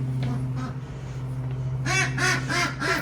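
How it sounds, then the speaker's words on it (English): A fluffy pet duck quacks a few times in close succession indoors, nasal calls rising over a steady household hum. "Hello, little duck. You're very cute."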